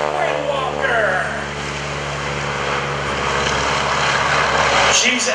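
A 450 horsepower 1940 Stearman biplane engine drones loudly and steadily at an airshow during a wingwalking act, a constant propeller roar with a voice talking over it.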